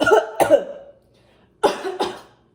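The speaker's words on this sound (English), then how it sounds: "That's a good strong cough." Two pairs of strong, close coughs from a patient during a clinical swallow evaluation, a short pause between the pairs, with no talking.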